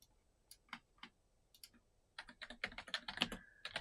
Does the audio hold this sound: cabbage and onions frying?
no